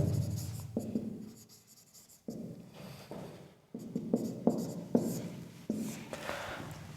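Pen or chalk writing during a maths lesson, a series of short scratchy strokes in bursts with small gaps, close and fairly quiet, no talk over it.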